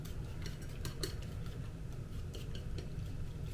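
Egg is whisked with white dashi, Chinese chive and onion in a bowl, giving quick light clicks and taps of utensil against the bowl over a steady low background hum, with no speech.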